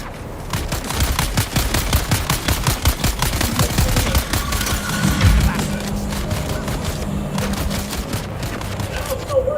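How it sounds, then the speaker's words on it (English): Rapid plasma rifle bursts in the sci-fi video game Dune Awakening, a dense run of sharp repeated shots filling the whole stretch, loud and close, with game effects mixed underneath. "Plasma rifles can be quickly used."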